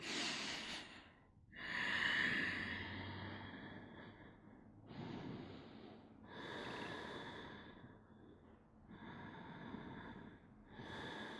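Slow, relaxed breaths drawn by someone lying on a yoga mat in a quiet room, long soft inhales and exhales repeating in an unhurried rhythm, close and fairly faint, with no talking.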